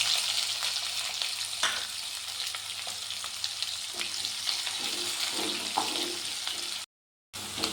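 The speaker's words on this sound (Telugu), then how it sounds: "ఇప్పుడు ఆనియన్స్ వేగినాయి కదా" A steady, loud frying hiss from onions in a pan, with faint stirring scrapes, cut by a brief moment of silence near the end.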